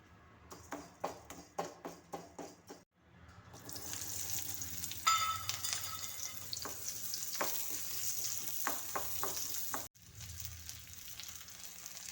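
A few sharp rhythmic taps come first, then tamarind and onion fry in a pan for a chutney made without coconut, with a continuous close sizzle and occasional stirring scrapes.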